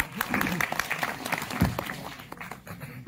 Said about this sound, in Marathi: त्यांच्यासाठी सर्वांनी टाळ्या वाजवून द्या.